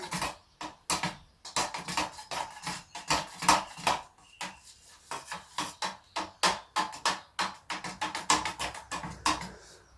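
Stirring paint in an opened paint pot produces a rapid run of rhythmic tapping and clinking strokes against the can, close by and fairly loud, with a short pause midway and no talking.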